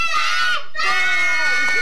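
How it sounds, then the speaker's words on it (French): A crowd of children shouts loudly and excitedly together, a sustained, high-pitched collective cry with a short dip in the middle before surging again. "Papa, il crie fort, les Pompinos."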